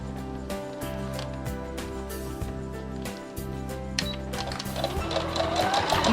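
A sewing machine back tacks through fabric while stitching a Christmas tree shape in red thread, giving a steady mechanical whir with rapid needle clatter over a low motor hum, close and continuous.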